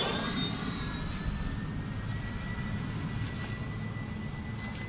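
A Freewing A-10 Thunderbolt II RC jet with twin 80mm electric ducted fans flies past, a steady loud whine and rushing roar with high tonal fan lines, slowly fading as it moves away, no talking.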